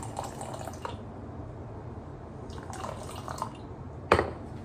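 Water is poured onto a scoop of protein powder and stirred, giving faint dripping and liquid splashes with a brief sharp clink near the end, close and quiet.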